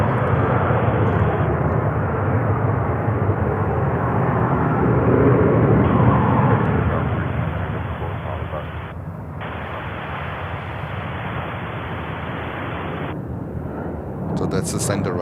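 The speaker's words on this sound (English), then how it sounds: "we have a few takeoffs that are happening on the center runway" A fixed-wing airliner takes off from the center runway at Charlotte airport, a loud, steady jet roar that swells and then slowly recedes into the distance.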